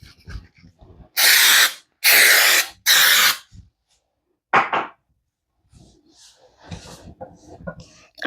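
Three quick, loud bursts of baking spray misted into a cake pan, close up, followed by a shorter fourth spray, with soft rustling and handling noise between.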